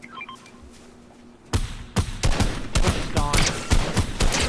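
Sniper and rapid gunfire in the Fortnite video game, a sudden loud burst of repeated sharp shots following a quieter stretch, with crackling impacts continuing throughout.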